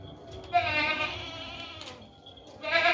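Goat kept for milk and breeding on a livestock market bleating close up, two long wavering calls separated by a brief pause, loud and clear with little else around.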